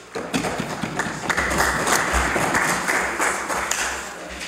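Members of a House of Assembly applaud in the chamber, a loose, uneven clatter of claps mixed with desk taps and low thumps that builds quickly and carries on.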